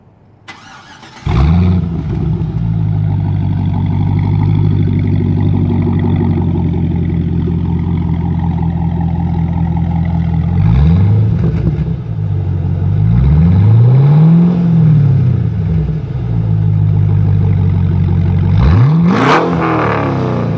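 A 2009 Cadillac CTS-V V8 cranks and starts, then settles into a loud, deep idle. It blips through several rising and falling revs, close and clear with no talking.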